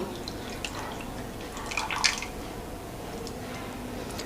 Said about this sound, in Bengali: দিয়ে দিচ্ছি টক দই